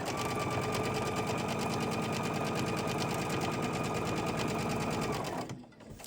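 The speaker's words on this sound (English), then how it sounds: "And then I want to go ahead and chain stitch them." A sewing machine chain-stitches pieces of a table runner in one continuous close, even run of rapid needle strokes with a steady motor hum, stopping abruptly just before the end.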